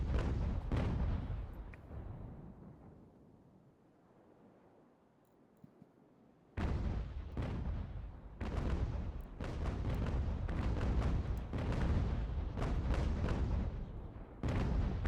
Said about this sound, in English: we may as well try and get close and do some grape shot